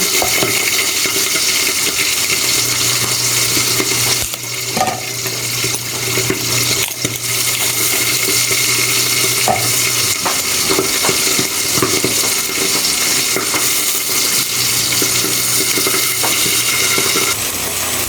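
Pork frying with garlic and onion in a pan, a steady loud sizzle with spattering pops and occasional clinks of a utensil, close and continuous without speech.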